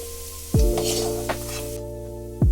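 Carrot pieces sizzle in hot oil for vegetable fried rice, a steady close frying hiss broken by a few sharp clanks of a utensil stirring against the pan.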